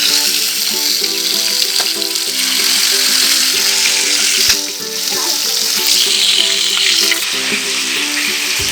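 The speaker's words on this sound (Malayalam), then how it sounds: "അപ്പോൾ ഞാൻ ഇനി ഫിഷ് ഫ്രൈ ചെയ്യാൻ പോവാണ്." Fish frying in a pan, a steady close sizzle with crackling oil running continuously and loudly, no voices present.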